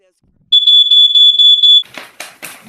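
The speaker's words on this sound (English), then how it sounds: "we have a special on the RES fire alarm systems" A RES smoke alarm beeps loudly in a steady pulsing tone for over a second, then stops as people begin talking.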